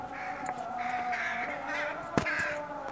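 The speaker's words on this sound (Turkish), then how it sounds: "Karga." A crow caws once, sharp and brief, over steady outdoor background noise during a walk, with faint voices around it.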